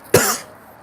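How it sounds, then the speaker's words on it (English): One sharp, close cough bursts out abruptly and fades quickly into a quiet room. "Apologies for the coughing again if you're just joining us"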